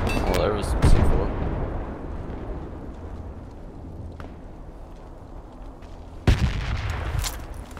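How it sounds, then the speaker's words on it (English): Project Reality video game combat on the Vadso Flat map: booming explosions and gunfire crackle, with one heavy blast near the start and another sharp burst toward the end over a rumbling background. "sounds like there's explosives around your building, guys"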